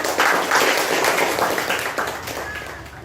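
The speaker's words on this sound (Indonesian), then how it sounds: "tepuk tangan untuk kelompok." Students in a classroom clap for a student group, a loud, close, continuous burst of hand claps lasting about three seconds.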